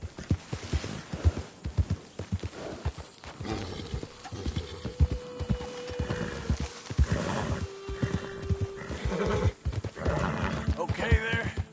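A horse in the video game Red Dead Redemption 2 gallops with rapid, rhythmic hoofbeats and lets out a couple of drawn-out neighs, while voices speak intermittently over the action.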